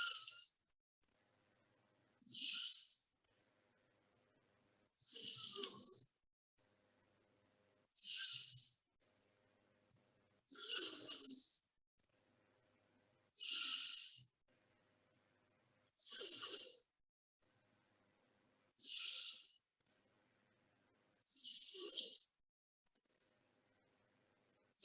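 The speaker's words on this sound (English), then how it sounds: "Now inhale." Deep, slow breaths during a guided healing breath exercise: about nine evenly spaced breathy pulses, each around a second long with pauses between, fairly close and soft, with no talking.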